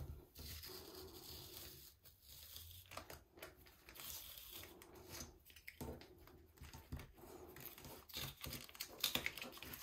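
Masking tape is peeled off a cutting mat in quiet, scratchy bursts with soft rubbing and brief tearing rasps between pauses.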